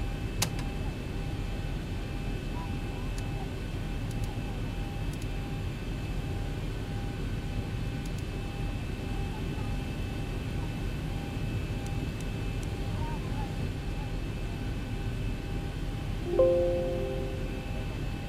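In the X-Plane 11 simulator, an airliner sits cleared for takeoff on runway 34 right at Doha Hamad airport. Its jet engines give a steady, even drone, with a brief soft click near the end.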